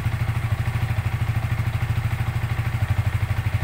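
A Yamaha Vixion motorcycle engine with fuel injection runs at a raised idle around 1500 RPM with the CO setting turned up, giving a steady, rapid, sputtering pulse close by.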